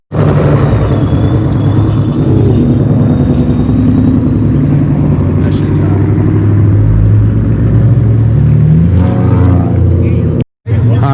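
Supercharged Ford 5.0 V8 racing, a loud sustained engine roar holding strong throughout, with voices and crowd noise mixed underneath before cutting out abruptly near the end.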